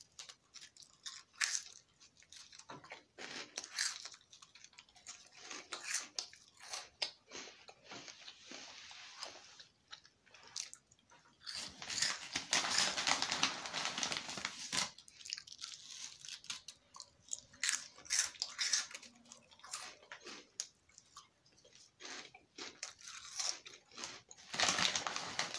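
Hot flaming Cheetos and hot fries are crunched and chewed close up, giving a long run of crisp, irregular bites and munching at a fairly quiet level with no talking.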